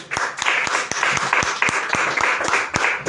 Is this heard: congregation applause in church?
yes